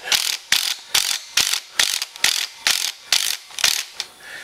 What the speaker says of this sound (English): I'm going to see if I can ease this thing in with the impact